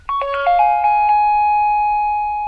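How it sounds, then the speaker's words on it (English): A Honeywell Lynx Touch L7000 alarm panel plays its standard chime, a short sequence of clear, bright electronic tones that settles into one long sustained note, close and loud with no talking. "So that's the standard chime."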